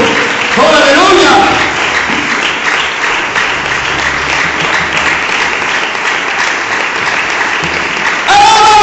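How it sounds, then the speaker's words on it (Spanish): A church congregation applauds for a long stretch, loud and steady, with shouts and voices mixed in, while singing or a preacher's voice rises over the crowd near the start and again at the end. "¿Será que hay un aplauso para Cristo en esta hora?"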